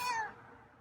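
A single short meow from a feral cat, close and fairly quiet, falling in pitch and fading out.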